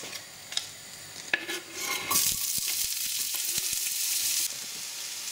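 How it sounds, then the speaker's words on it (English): Onions are thrown into hot oil left over from frying aubergines for a Greek moussaka. A few utensil clinks come first, then a loud, steady sizzle of frying with intermittent taps of stirring. "throw in your onions and start browning them off"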